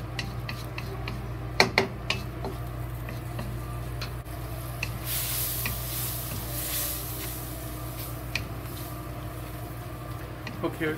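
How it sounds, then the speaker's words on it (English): Tomatoes and eggs frying with soy sauce in a wok over high heat, a steady sizzle with scraping and stirring clatter, a few sharp utensil clicks, and a louder hiss surging midway. "Okay, we fry it a little well."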